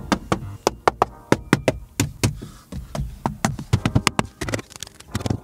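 Dry, hollow knocks on the hard plastic interior of a Dacia Spring car, close by, tapped in quick irregular bursts of several raps with brief pauses between.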